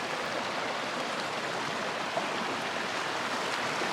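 A flooded creek spills across a hiking trail on the Continental Divide Trail, a steady, dense rush of flowing water close by, with no voices.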